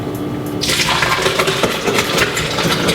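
Thick butternut squash soup poured from a pot into a blender at a kitchen sink, a loud, close, continuous gushing pour that begins after a brief quieter moment and runs steadily to the end.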